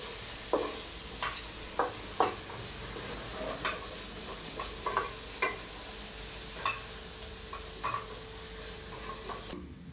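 Masala for mushroom kurma sizzles steadily in a hot pan while a spoon scrapes and stirs with irregular metallic taps, close and moderately loud.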